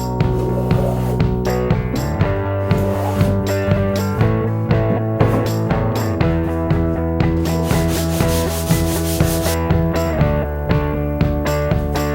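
A hand plane bevels the plywood edge of a homemade Goat Island Skiff sailing boat, making loud, close, rhythmic rasping strokes that repeat steadily, each cutting through the wood with a short shaving hiss.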